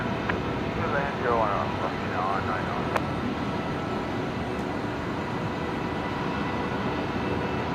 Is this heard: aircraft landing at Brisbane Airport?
yes